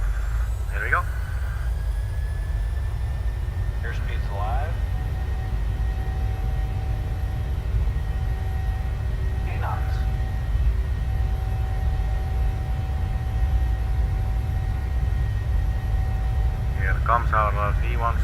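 In Microsoft Flight Simulator, a PMDG Boeing 737-700's jet engines hold a steady low roar at takeoff thrust, with a faint high whine above and someone talking intermittently over it.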